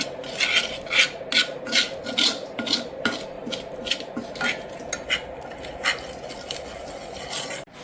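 Homemade hair powder being mixed in a bowl, a repeated rasping scrape of a spoon against the bowl in quick uneven strokes, close and clear with no voices.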